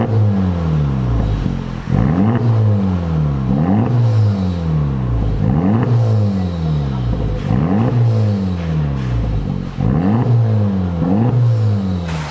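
A Honda Civic Type R FL5 with its stock downpipe and exhaust revs repeatedly, each loud, close throttle blip rising and falling in a steady cycle of about one and a half seconds, with no other sound.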